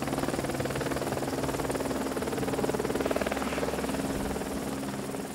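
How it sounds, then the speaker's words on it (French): Helicopter engine and rotor running steadily near Mont-Blanc, a continuous loud droning throb with rhythmic blade chop throughout, close and dominant with no talk. "Aux commandes de l'hélicoptère, Pascal."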